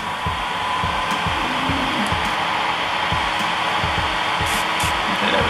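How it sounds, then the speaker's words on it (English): Nail dust collector running steadily, a loud continuous fan hiss and whir with a faint regular low pulsing underneath, close and uninterrupted. "So I'm gonna go ahead and pull out my dust collector here."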